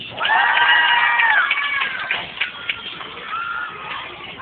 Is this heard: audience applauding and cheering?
yes